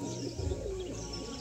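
Low, rolling coos from Dasu line pigeons kept at home, a soft continuous murmur with a few faint chirps, fairly close and steady throughout.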